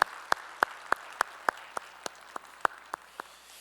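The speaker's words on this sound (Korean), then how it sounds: "우리 찬양을 받으실 주님께 영광의 박수 올리겠습니다." A church congregation at a Sunday worship service claps in steady unison, about a dozen crisp, evenly spaced beats, moderately loud over a quiet room.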